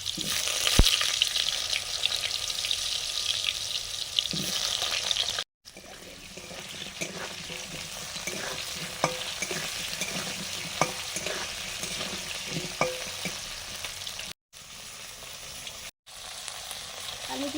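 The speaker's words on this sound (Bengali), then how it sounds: "প্রথমে আলুগুলো ভেজে নিচ্ছি" Potatoes frying in mustard oil in a pan for a Bengali fish curry with koi fish and figs, a steady close sizzle with scattered stirring clinks and scrapes, briefly cut off a few times, no talk.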